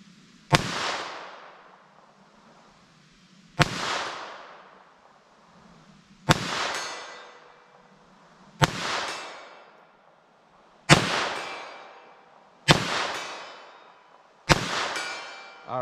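Gunshots from a .22 LR and .38 Special ammunition test ring out, seven loud, sharp reports spaced a couple of seconds apart, each with a short ringing tail, with no talk.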